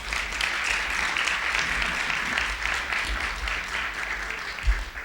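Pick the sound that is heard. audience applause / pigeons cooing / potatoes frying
audience applause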